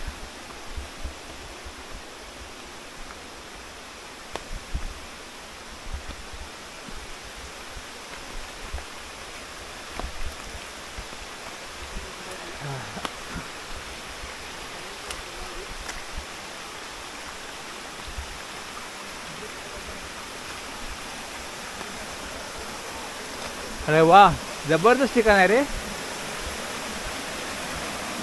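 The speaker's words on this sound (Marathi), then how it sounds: "पाहताय सुंदरसा धबधबा आहे आणि सुरक्षित असा धबधबा आहे." Waterfall pouring over large rocks after the first monsoon rain, a steady, even rushing hiss heard close and continuous, with a person briefly talking over it near the end.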